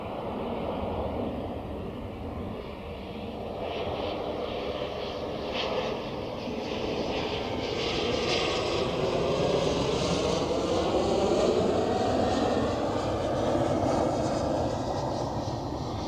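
A Royal Air Maroc airliner arrives at Zurich Airport with a loud, continuous jet engine roar. The roar slowly shifts in pitch as the plane passes, heard from a moderate distance with no talking.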